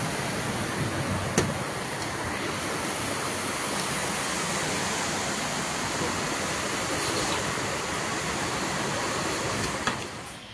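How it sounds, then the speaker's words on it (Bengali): Water pours steadily from a tap in an even, continuous hiss that stays at a constant moderate level close by, with a couple of faint knocks and no talking. "পানি পড়তেছে"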